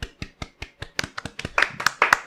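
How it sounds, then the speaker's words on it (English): Golf clap emote from a video game character on the Nintendo Switch, triggered by the right thumbstick: a run of crisp, evenly spaced hand claps, sparse at first, then quicker and louder, heard alone. "if you push the right thumbstick, you actually do a golf clap"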